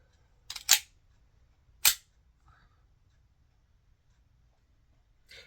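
Two sharp, snappy BB gun shots about a second apart, dry and close, each a short crack followed by near-silence, with a faint click later.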